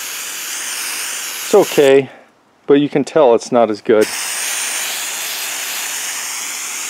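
Cheap dollar spray paint hissing from a can onto a woodworking project, a steady close spray that stops for a few seconds of talk and then resumes.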